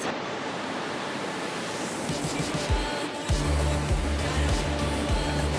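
Ocean waves on the beach at La Jolla, San Diego, a steady loud wash of surf with wind buffeting the microphone and low rumbling gusts in the second half.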